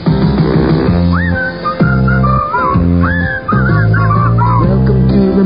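A person whistles the Mancow Show theme, a lively melodic tune carried close and loud over a steady backing of music and beat.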